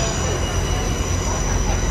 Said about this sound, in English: That's our next train coming in.